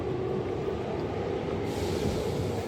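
A train in Japan rumbles past close by, a steady loud roar of wheels and carriages with no voices.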